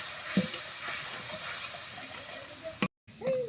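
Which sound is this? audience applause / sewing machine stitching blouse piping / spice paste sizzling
spice paste sizzling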